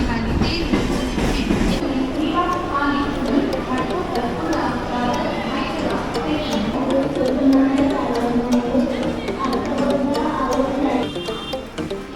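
A train rumbles and clatters into platform 6 at Kalyan station while a Hindi public-address announcement for the Mysore holiday special plays over the noise.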